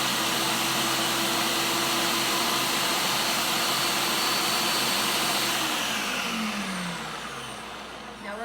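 Food processor blending a cream cheese pizza crust mixture: a loud, steady motor whir with grinding churn that runs for several seconds, then winds down with a falling pitch as it slows.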